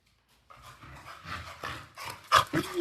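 Pet dog panting up close indoors, quick rhythmic breathy huffs that start after a moment of quiet and grow louder, ending with a brief whimpery squeak.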